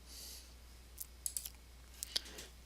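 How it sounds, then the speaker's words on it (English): A few faint, sharp computer mouse clicks while right-clicking in an Excel spreadsheet, several quick taps clustered within a couple of seconds in a quiet room. "I'm going to right click and copy,"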